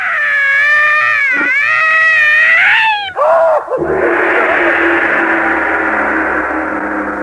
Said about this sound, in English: Yowling and screaming like a cat.